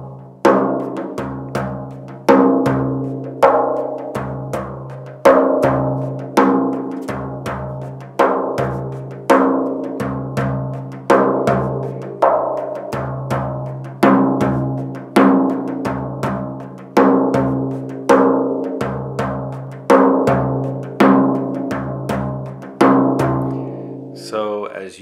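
Frame drum played alone in a steady repeating pattern of deep doom and sharp tuck strokes, close and clear, each accented beat cycling about every two seconds for the whole stretch.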